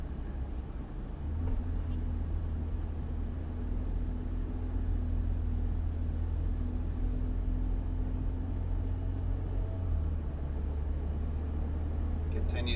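A Ferrari 488 GTB on a racetrack gives a low, steady engine rumble heard from inside the cabin, faint and constant under muffled road noise, with an occasional voice.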